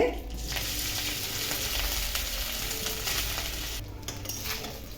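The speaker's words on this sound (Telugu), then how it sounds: "నెయ్యి అయితే హీట్ అయింది కదా ఇప్పుడైతే నేను ఈ చిన్న చిన్న ఇడ్లీలు అయితే వేస్తున్నానండి" Mini idlis fry in hot ghee while being stirred, a dense steady sizzle close by with scraping stir sounds running underneath throughout.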